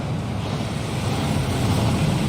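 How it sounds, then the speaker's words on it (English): A waterfall in the Gringotts vaults of the Hogwarts Legacy video game gives off a steady, loud broadband rush of falling water that holds without a break. "That waterfall washes away all enchantments."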